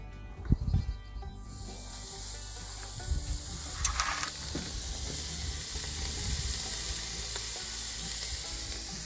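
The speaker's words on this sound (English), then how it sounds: "Here it is, ready for that beautiful sizzle." Steady, loud sizzling of a burger patty on a hot barbecue grill, starting after a few clunks and scrapes and continuing evenly throughout.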